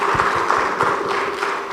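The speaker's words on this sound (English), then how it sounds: "Let's give them another round of applause" Workshop audience giving a round of applause at a launch event, a dense, continuous patter of clapping across the whole short stretch.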